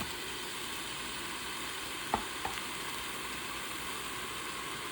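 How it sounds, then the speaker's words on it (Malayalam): Onions sauté in a pan with a soft, steady sizzle, broken by two faint clicks partway through. "ഒന്ന് ഇളക്കിയിട്ട് എടുത്തിട്ട് നമുക്കൊന്ന് അടച്ചു വെച്ച് കൊടുക്കാം. ഉള്ളിയൊക്കെ ഒന്ന് വശന്ന് വരണം"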